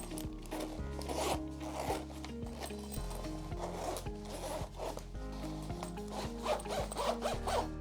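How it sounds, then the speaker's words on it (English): Zippers on a lululemon Everywhere crossbody bag are pulled back and forth several times in quick, close rasping strokes, quiet and with no voices. "The zippers in my experience have been smooth."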